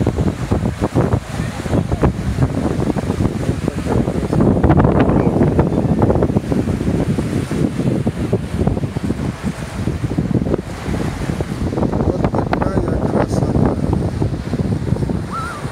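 Sea waves wash onto the shore at Zatoka on the Black Sea coast, with gusts of wind buffeting the microphone, a low rumbling surge that swells and recedes over the clip, loud and close with no speech.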